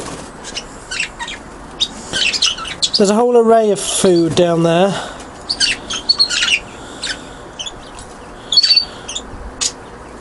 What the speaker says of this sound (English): the birds have gone for the apples